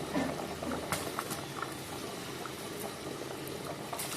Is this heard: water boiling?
yes